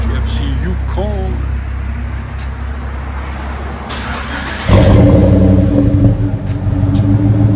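A 2008 GMC Yukon XL with a 5.3L V8 and Flowmaster Super 10 exhaust: voices talk nearby over a low idle, then the engine revs into a loud, deep, throaty rumble that swells and holds close by.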